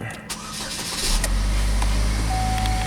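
A Chevy Equinox SUV engine cranks and catches, then settles into a steady low idle hum, close up.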